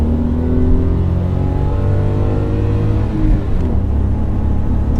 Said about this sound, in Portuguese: fazer uma aceleraçãozinha aqui um pouquinho mais forte, justamente para ver como é que ele se comporta